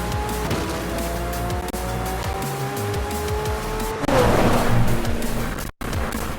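Racing car in a video game streamed through Xbox xCloud, a steady loud engine drone with rising gear tones, tire squeal and a brief skid, with no talking over it.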